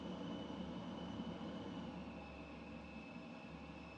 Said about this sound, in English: Very loud plane. Very loud jet.